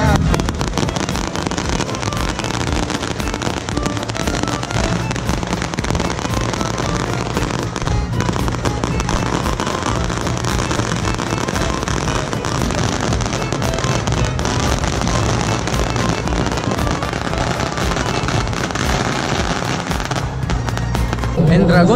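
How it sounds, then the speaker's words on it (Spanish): Dense, continuous crackling bursts of firecrackers going off nonstop in a park during a dragon parade, loud and close, with crowd voices faintly mixed underneath. "Se están empezando los petardos."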